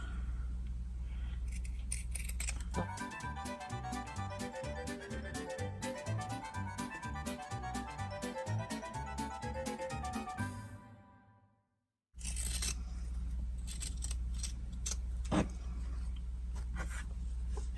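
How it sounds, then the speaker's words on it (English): Pinking shears trim fabric for a simple drawstring bag, a steady run of close crunching snips. A brief pause, then the cutting resumes, with soft background music under the first stretch. "I'm going to trim it with my pinking shears"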